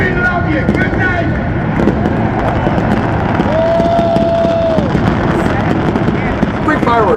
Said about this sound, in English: Free fireworks show included with the ticket price of the concert there.